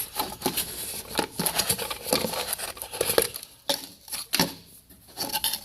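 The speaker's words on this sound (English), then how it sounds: "Cut the top off of this." A plastic bottle cut open to make a soaking container for a Mazda RX8 SSV part: a close run of crackling, crinkling snips and tearing plastic, irregular and fairly loud, with brief pauses.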